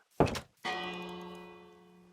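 A bell in the Minecraft video game, around version 1.14: a short dull knock, then a single loud strike that rings on with a long, slowly fading metallic tone, heard alone.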